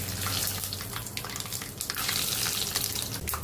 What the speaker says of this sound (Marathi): चला आपण टाकू आता राई, ते टाकू जिरं, आपण थोडंसं शेंगदाणा टाकू